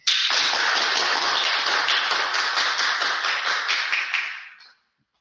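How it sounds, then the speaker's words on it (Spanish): Audience applause welcoming a speaker at a talk on chemical engineering outreach: dense, steady clapping from a crowd that starts abruptly, holds evenly for about four seconds, then fades out quickly into silence. "Un aplauso."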